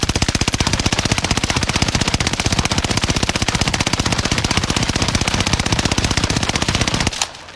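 Sustained automatic gunfire sprays continuously in PUBG, a rapid even stream of shots for about seven seconds before cutting off abruptly, loud and alone with no talking.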